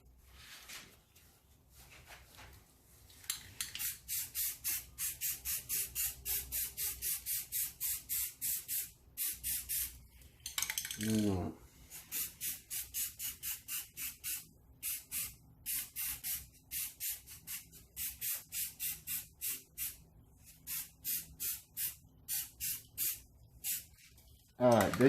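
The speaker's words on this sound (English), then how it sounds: "So now let's get the first spray of the primer." Spray can spraying primer onto a Honda Accord brake caliper, a long series of short rhythmic hissing bursts close by, with a brief pause and a voice speaking midway.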